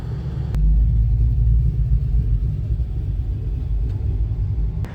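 Low vehicle rumble in an A&W parking lot as cars pull in for a car meet, a steady near engine drone swelling in at the start and holding without talk.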